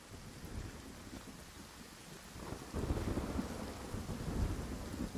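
Steady rain with rolling thunder in the video game Nightingale, a continuous wash of downpour that swells louder partway through, with low rumbles underneath and no voices.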